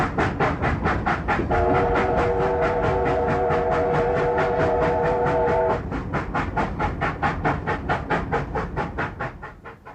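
Steam locomotive 3801 hauls its train, the rapid rhythmic chuffing of the exhaust beating steadily throughout, a sustained chime whistle sounding for several seconds near the start, then the chuffs continuing and gradually fading.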